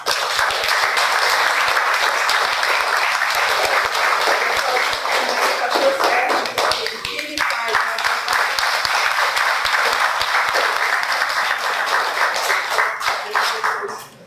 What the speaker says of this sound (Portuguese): eu queria que a gente aplaudisse primeiramente a Deus